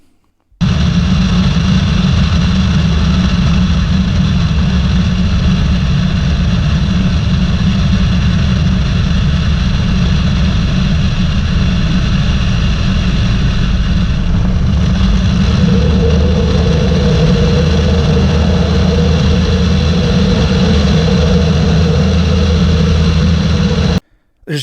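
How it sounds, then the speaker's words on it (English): Light aircraft engine heard from outside the airplane, a loud sustained roar that stays steady and dense for over twenty seconds, with a lower hum joining near the end before cutting off abruptly. "the roar of an engine, the sound of an engine from outside the airplane when you're going from zero or low power up to full power"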